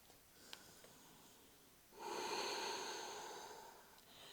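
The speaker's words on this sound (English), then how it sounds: "That soft ocean sound, breathing in through your nose, breathing out through your nose." Soft ujjayi yoga breath drawn through the nose during a vinyasa flow, a gentle hiss that swells for about two seconds and slowly fades, close and quiet with no talking.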